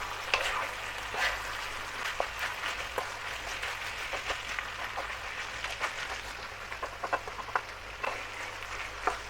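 Onions, peppers and beef sizzle in a pan while being stirred, a steady hiss of frying broken by clicks and scrapes of the spoon, close and fairly quiet.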